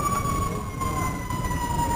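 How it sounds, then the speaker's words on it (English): A siren wails steadily through the whole stretch, a sustained tone with slow pitch drift over a busy low rumble of traffic, fairly distant. "Lots of sirens, that's always a good thing"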